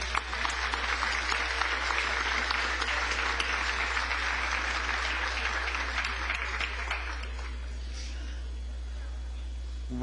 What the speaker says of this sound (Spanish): Propongo un aplauso para él